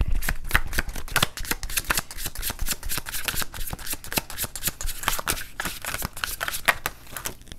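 Tarot cards are shuffled close up in a fast, continuous crackle of riffling and sliding card edges, with no talking.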